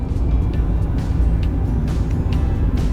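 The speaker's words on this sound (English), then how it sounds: "Here's us driving on the rim toward Payson." Steady car road noise from inside a vehicle travelling the rim road on Highway 260 toward Payson, Arizona, a continuous low rumble with faint tire hiss throughout.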